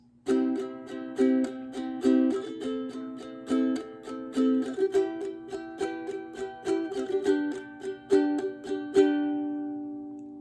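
Steady ukulele strumming, a long run of evenly spaced down strums ringing chords, played alone and fairly close, the last chord left to fade.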